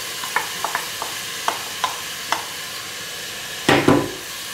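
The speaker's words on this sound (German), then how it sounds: "Und da brate ich jetzt scharf das Fleisch an." Meat searing hard in hot oil in a pot for Hungarian goulash, with onions to follow: a low steady sizzle broken by distinct spoon scrapes and clacks, ending in a louder burst of frying, close up.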